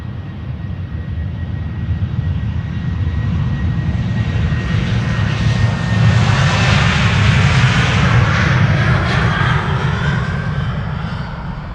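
KLM jet airliners at Amsterdam Schiphol Airport produce a loud, steady engine roar that swells toward the middle and holds, a close, continuous rumble with no talking.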